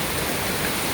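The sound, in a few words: heavy rain falling in Hong Kong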